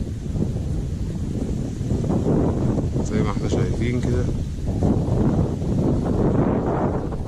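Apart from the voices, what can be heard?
strong wind on microphone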